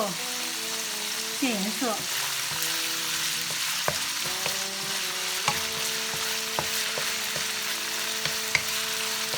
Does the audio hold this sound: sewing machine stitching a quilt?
no